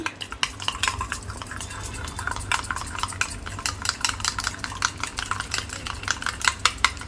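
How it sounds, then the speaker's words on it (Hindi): A spoon stirs creamy malai chicken gravy in a pot, giving continuous wet clicks and quick rhythmic scrapes against the metal. The sound is close and busy, and no one speaks. "और इसको हम अच्छे से मिक्स कर लेंगे।"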